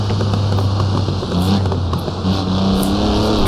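A Mercedes transporter van in Assetto Corsa runs flat out on the Nordschleife, its engine droning loud and steady at high revs with a constant hum and slight pitch shifts.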